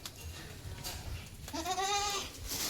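A goat, a female kid over ten months old at a Manjeri livestock sale, gives one clear, wavering bleat midway, close and fairly loud over quiet background noise.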